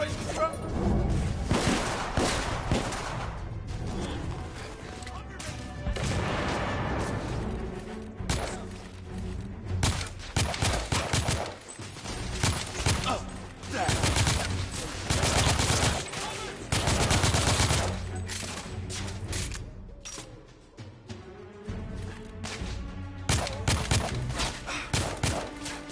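Suppressing gunfire in The Order: 1886, sustained bursts of machine-gun and rifle fire with heavy thumps throughout, loud and dense over a long stretch, with occasional voices shouting in the mix.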